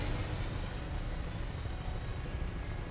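Aircraft engine in Fallout 4 spooling up for takeoff, a steady loud droning roar with heavy low rumble and broad rotor-like noise throughout, no voices.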